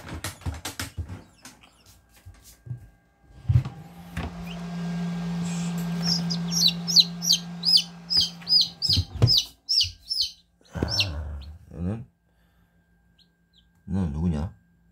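Newly hatching East Araucana and native chicken chicks peeping in a quick run of high, bright chirps mid-clip, with handling noises, a steady hum and brief bursts of nearby speech around them.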